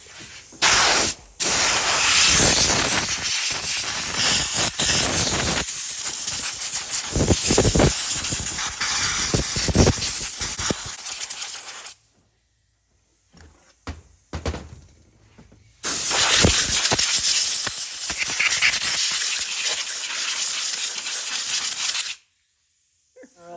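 Long bursts of loud aerosol brake cleaner spraying on a 1957 Cadillac Eldorado engine part, stopping briefly and starting again, with short gaps of near silence between sprays.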